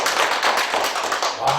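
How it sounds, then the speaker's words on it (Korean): A group in a speech class clapping together while cheering "wow" on cue, dense steady applause mixed with shouts filling the short moment, loud and close throughout. "와우 하면서 함성의 박수 한번 쳐보실까요?"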